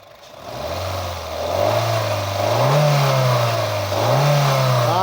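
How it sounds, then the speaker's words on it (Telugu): A 2011 Honda City petrol car engine idles smoothly, then is revved up in several rising and falling pulls, close and loud, with no one speaking. "थोड़ा रेस करना गाड़ी."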